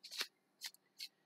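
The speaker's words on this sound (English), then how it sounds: "all we have left to do now is to shuffle up your cards" Tarot cards being shuffled, three short crisp riffling bursts separated by brief pauses, close and fairly quiet against a silent background.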